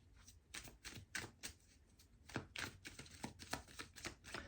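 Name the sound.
shuffling a deck of tarot cards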